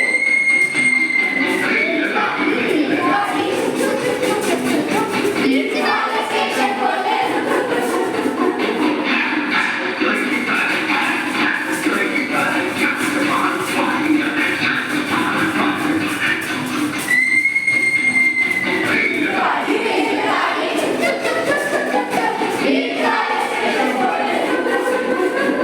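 A recorded train played aloud in a classroom: a steady, loud rumble of rolling wheels and carriages with a few squealing, whistle-like tones, running continuously for about twenty-five seconds.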